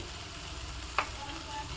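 Kidney beans (rajma) fry in a pan with coriander and cumin powders, making a faint, steady sizzle with a single soft clink near the middle.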